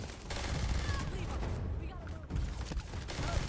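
Rapid automatic gunfire from a bullet-hose style weapon in a space video game, a dense continuous rattle of shots filling the whole stretch, loud and close with a brief dip midway.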